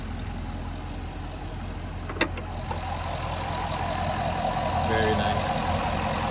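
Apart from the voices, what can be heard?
Chevrolet Camaro 2SS LS engine idling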